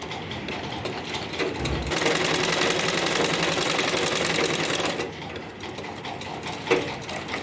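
Sewing machine stitching a folded hem on a dhoti salwar, one steady mechanical whir that swells louder mid-run and then eases back to a lighter hum, close and continuous with no talking.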